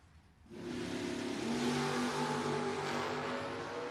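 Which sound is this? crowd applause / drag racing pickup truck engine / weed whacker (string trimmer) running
drag racing pickup truck engine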